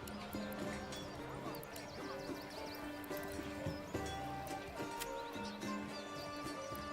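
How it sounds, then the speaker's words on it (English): Horses in the medieval city-building game Manor Lords, arriving alongside pack mules: rhythmic hoof clip-clop under a busy town ambience, with chirping birds and background activity at moderate volume. "I don't know why there's horses here, though."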